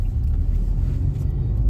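A Maruti Baleno Zeta CNG car pulls away in second gear, its engine a steady, close, low rumble heard from inside the cabin with no voices.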